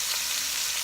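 Chicken frying in a pan with pork drippings, giving a close, steady, loud sizzle with no talk.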